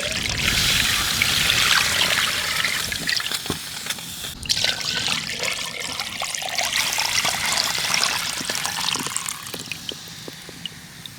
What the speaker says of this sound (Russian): Теперь заливаем холодной водой.